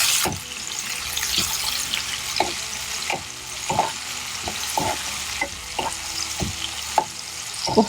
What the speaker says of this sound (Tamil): வெங்காயம் தக்காளி மட்டும்தான் போட்டு இன்னும் குக் பண்ணிகிட்ருக்கோம். அதுக்கே இவ்வளோ சவுண்ட் வருது.